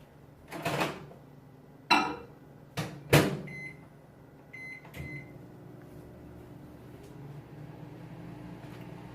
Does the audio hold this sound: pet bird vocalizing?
no